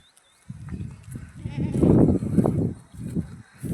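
Goats being fed maize on a farm bleat close by, several loud, wavering calls following one another in quick bursts with short gaps between them.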